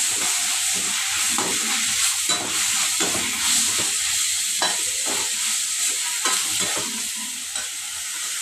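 Ginger and garlic sizzling and frying in a pan while making mutton thokku, a steady loud hiss throughout with repeated stirring scrapes and clinks cutting through it.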